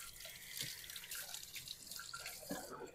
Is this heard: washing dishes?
yes